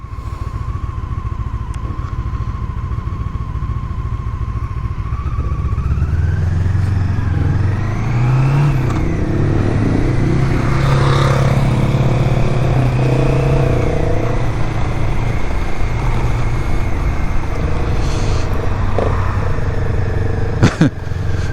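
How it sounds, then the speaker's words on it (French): A motorcycle rides a gently winding road around Grangent, its engine close and loud, droning steadily before revving up with a rising pitch and then holding a strong, even roar. "Il lui met un petit coup de gaz au vélo, juste histoire de lui dire je suis là."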